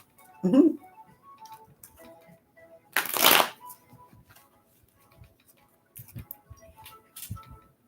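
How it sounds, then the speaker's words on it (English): Several decks of reading cards being shuffled, a loud riffling burst near the middle with softer handling clicks before and after, close up and alone with no talk. "So let me shuffle all three decks real good."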